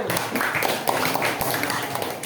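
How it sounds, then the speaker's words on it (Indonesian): Sixth-grade students clap for a classroom group at an Indonesian school, a dense patter of hand claps with some louder taps close by, continuous for the whole stretch. "Tepuk tangan untuk kelompok 1."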